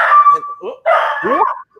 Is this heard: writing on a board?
no